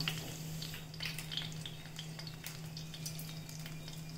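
Chana dal, urad dal, mustard seeds and cumin frying in hot oil in a pan, a steady close-up sizzle with crackling pops over a low constant hum, no voices.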